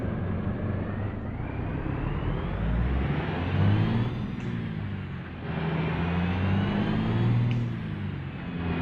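A truck engine in Harsh Russia, Transbaikalia, accelerating after a shift from neutral into first gear, a steady loud engine drone that rises and surges twice, with no talk over it.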